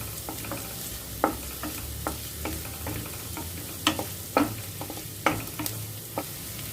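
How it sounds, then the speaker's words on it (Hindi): Chopped onions with finely cut ginger frying in a pan until golden brown, a steady low sizzle broken by sharp scraping clicks of stirring at irregular intervals, close and alone without talk. "अब प्याज को गोल्डन ब्राउन होने देंगे।"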